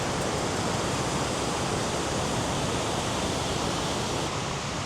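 Kuntala waterfall pouring over rocks, a dense unbroken roar of rushing water, loud and close, steady from start to finish with no other sounds.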